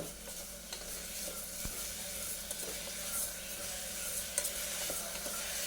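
Bitter gourd sautéing in coconut oil with salt, a steady soft sizzle with scattered crackles and an occasional stir, heard alone and fairly quiet.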